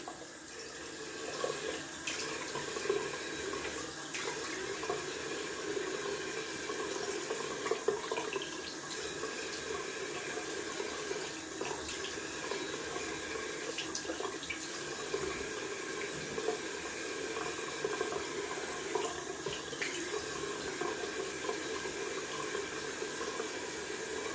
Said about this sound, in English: we will stop there, rinsing off with cold water